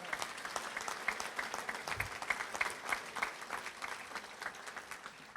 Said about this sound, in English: let's give him a round of applause, Tom Meese.